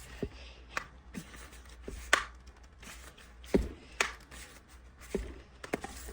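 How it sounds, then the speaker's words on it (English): A resin crackle bowl is cracked loose from its mold with a few sharp snaps and knocks, scattered irregularly and close by, along with light handling clatter. "I have to give it a little crack, get it out of the bowl."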